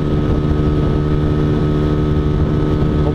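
A Honda Fan 125 motorcycle carrying a passenger accelerates downhill in fourth gear, its engine a steady, loud, close droning hum with strong harmonics that holds for the whole stretch with no talk.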